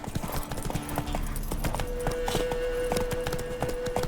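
Horse hooves gallop in The Witcher 3 with a quick, steady clip-clop rhythm that stays prominent throughout. Faint sustained background tones run beneath it.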